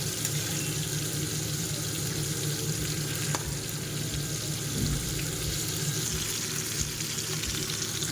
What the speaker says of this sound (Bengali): আমার আলুগুলো প্রায় ভাজা হয়ে এসেছে